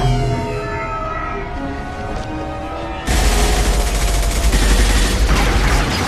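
Dense gunfire and booming blasts from a Mass Effect 2 firefight, steady and loud throughout, growing heavier and more intense about halfway through.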